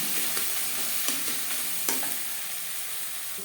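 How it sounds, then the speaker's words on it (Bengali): Onion and tomato with salt and turmeric sizzle and frying steadily in a pan, with a few sharp spoon scrapes and clicks as the mixture is stirred, close and continuous with no voices. "স্বাদ মতো লবণ লবণ হলুদ পেঁয়াজ টমেটোর সাথে বেশ ভালো করে মিক্স করে দেব"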